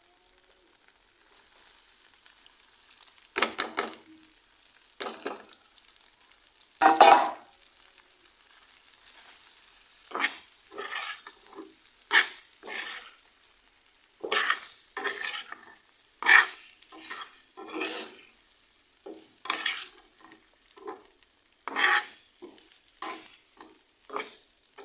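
Homemade flour noodles being stirred and tossed in a frying pan, with repeated scraping and clattering stir strokes over a light sizzle, fairly close and steady, no voices.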